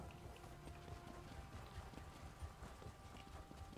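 Horse hooves clip-clopping in the video game Elder Scrolls Online, a steady galloping rhythm of soft thuds over a low ambient game bed, with no talk.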